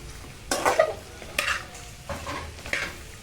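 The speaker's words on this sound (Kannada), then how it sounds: "ಬೆಂಡೆಕಾಯನ್ನು ಹಾಕಿ ಎರಡರಿಂದ ಮೂರು ಸ್ಪೂನ್ ಎಣ್ಣೆಯನ್ನು ಹಾಕಿ ಮಧ್ಯಮ ಉರಿಯಲ್ಲಿ ಚೆನ್ನಾಗಿ ಫ್ರೈ ಮಾಡಿಕೊಳ್ಳಿ" Okra fries in two to three spoons of oil over a medium flame, stirred in a few distinct scraping strokes that punctuate a soft continuous sizzle close by.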